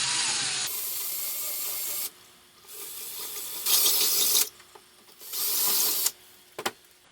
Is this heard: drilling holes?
yes